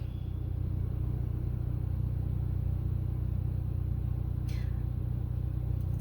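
A car pulls away after a failed attempt at parallel parking, a low steady engine rumble with road noise, continuous and moderately loud with no voices.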